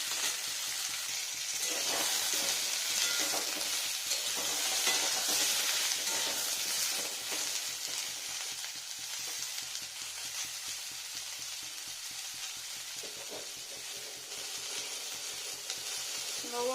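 Small potatoes and eggplant fry in oil in a pan, giving a steady loud sizzle with occasional stirring scrapes, close by and without talking.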